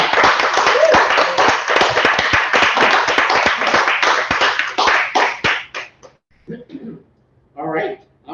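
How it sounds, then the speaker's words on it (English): An audience claps and cheers for a performer at a live show, dense applause for about five seconds that thins into a few scattered claps and then fades out. "how about one more round of applause for Linda"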